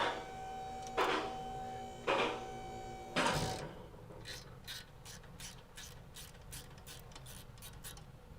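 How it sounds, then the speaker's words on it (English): A stubby 13 mm ratchet wrench works a car bolt, three loud separate clicks followed by a quick run of lighter, evenly spaced ratcheting clicks close by, with no talking. "Now we can get a little stubby 13 and our little stubby wrench here because we got to hold this inner bolt."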